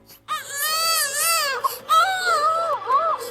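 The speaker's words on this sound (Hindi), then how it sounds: "इसके अंदर से तो बच्चे के रोने की आवाज आ रही।" An animated infant cries in loud, wavering wails, two long sobbing bursts separated by a brief catch of breath, close and alone.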